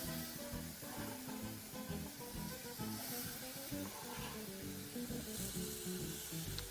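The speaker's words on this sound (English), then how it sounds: "you want to continue frying this and just allow the tomatoes to just release some water into the mixture" Onions and chunked tomatoes fry in a pan, giving a steady, close sizzle with light crackling throughout and no talking.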